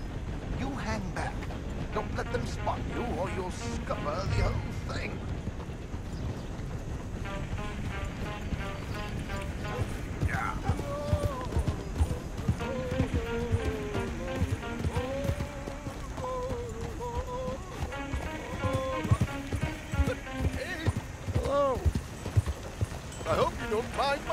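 Horse hooves gallop in Red Dead Redemption 2, a steady rhythmic clip-clop running throughout alongside rolling coach wheels, with voices talking over it.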